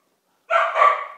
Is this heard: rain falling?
no